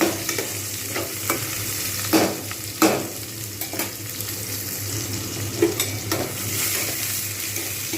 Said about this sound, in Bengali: টমেটোগুলো যতক্ষণ পর্যন্ত না গলছে ততক্ষণ পর্যন্ত আমি একটু পেঁয়াজের সঙ্গে ভালোভাবে ভেজে নেব